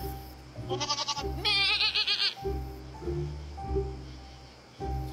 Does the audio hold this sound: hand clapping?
no